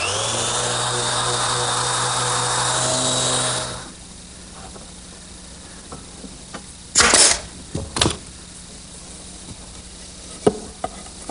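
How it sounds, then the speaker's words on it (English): A power sander runs on the interior of a wooden secretary desk, buzzing steadily for a few seconds before it stops, followed by quieter handling noises and a couple of short bursts. "I want to take the time now to sand any of the interior areas that are going to"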